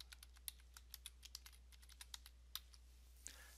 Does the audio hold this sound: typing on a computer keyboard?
yes